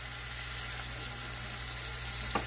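Fish frying in olive oil in a pan over medium-high heat, giving a steady, even sizzle that holds close and constant, with a brief clink near the end.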